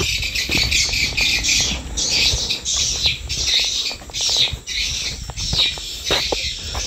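Dense, noisy squawking and chirping from many birds at a bird nest house near Apung village, Bulungan, fills the air continuously, loud and close, with no pauses in the chatter.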